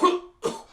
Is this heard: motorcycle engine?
no